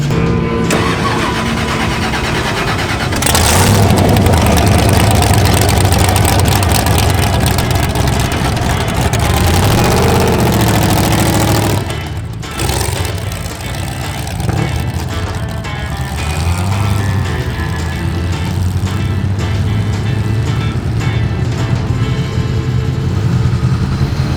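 A Polaris RZR fitted with a Magnuson-supercharged LS3 V8 roars close and loud, its deep engine note rising and falling through revs, briefly dipping before surging back to a heavy, sustained rumble.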